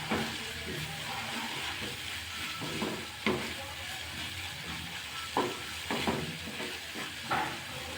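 Garlic chutney bubbling on a low flame in a pan gives a steady close sizzle and hiss, broken by several distinct stirring scrapes spaced a second or two apart, with no speech.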